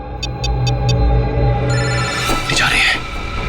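A phone rings with four quick electronic chirps, then a busy mix of background noise and movement takes over.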